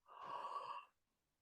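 A person yawns once during a voice and breathing warm-up, a single airy open-throated exhale lasting under a second, close and soft, followed by quiet.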